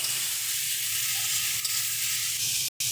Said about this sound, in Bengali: টমেটোটাকে ভালো মতন করে মিশিয়ে নিতে হবে